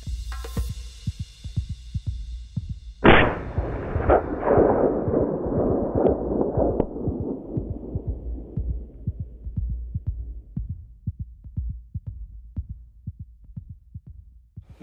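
A single sharp rifle shot cracks out during an impala hunt in South Africa, followed by a long rolling echo that fades over several seconds, set against low rhythmic thumping and background hum.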